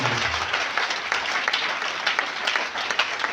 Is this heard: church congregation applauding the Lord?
yes